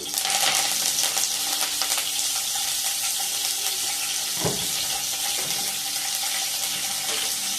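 Chopped onion and tomato fry in ghee in a home kitchen with a steady, dense sizzling hiss that fills the whole span. Faint stirring knocks sit underneath, and no one talks.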